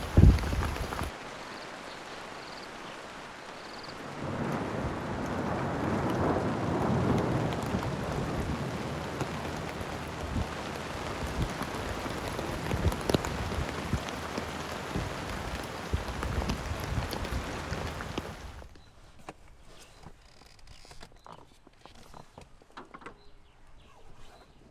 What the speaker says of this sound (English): The rain clears up eventually to yet another stunning afternoon.